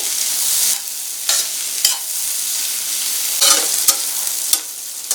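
Vegetable pieces for chicken fried rice are stir-fried over a high flame, making a loud, constant hiss and crackle broken by several sharp clanks and scrapes from stirring.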